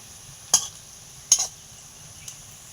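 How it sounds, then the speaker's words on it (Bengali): Onions fry quietly in oil with cumin, bay leaf and dried chili: a soft, low sizzle broken by two sharp spatula scrapes against the pan and a fainter third tap. "পেঁয়াজটা দেওয়ার পর কিছুক্ষণ ধরে নাড়তে হবে, একটু ভালো করে ভাজা যতক্ষণ না হবে।"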